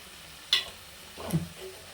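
A spatula scrapes prawn roast from the sides of a pan: a sharp metallic tap, then a short low scraping stroke over a quiet frying hiss, no voices.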